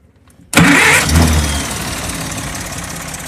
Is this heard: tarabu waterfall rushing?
no